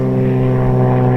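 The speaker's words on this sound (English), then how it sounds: "there's a plane flying over" A propeller airplane drones overhead at a hunting spot, its steady engine hum loud, close and continuous throughout with no talk.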